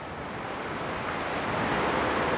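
Ocean waves wash onto the beach shore in a continuous broadband rush of surf, steady and moderately loud, with wind noise mixed in and no voices.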